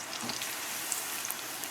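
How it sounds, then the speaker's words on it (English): Pork pieces deep frying in hot oil in a deep fryer, giving a steady, close, moderately loud bubbling sizzle with small crackles throughout and no talk. "Because when you fry something, the heat is so intense in that deep fryer."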